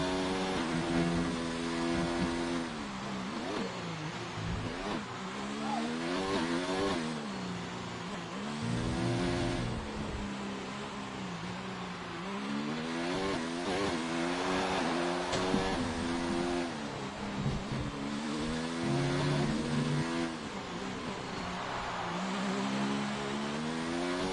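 A McLaren Formula 1 car in a racing video game, its engine screaming loud and continuous through a sector, pitch climbing and dropping with each gear change and corner, with brief tyre noise and no talking.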